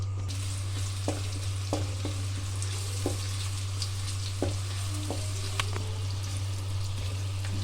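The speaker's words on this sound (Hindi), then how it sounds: "हम प्याज को हम हल्का हल्का सा फ्राई कर लेंगे" Onions frying lightly in a pan for beef malai boti, a steady soft sizzle with scattered small crackles and a few stirring taps, no voices.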